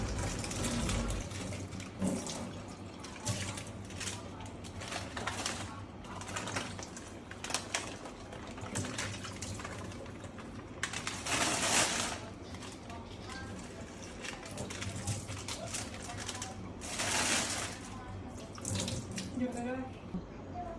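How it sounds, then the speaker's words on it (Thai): Tap water runs steadily into a sink while plastic snack packets are rinsed, with crinkling and splashing throughout and occasional bursts of louder flow. "ถ้าเป็นซองขนมหนูก็จะละนำมาล้างก่อนนะคะ"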